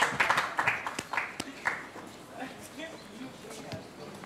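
A small group gives a round of applause during a reality game show task, scattered loose clapping up close that fades as a voice talks over it.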